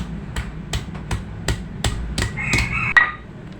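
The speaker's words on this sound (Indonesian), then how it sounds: "Sekarang kita giling bahan yang halus." Spice ingredients for Padang-style sambal lado tanak being ground by hand, a series of sharp, evenly spaced pounding knocks close by, about ten strikes in under four seconds, with a brief scrape near the end and no talk.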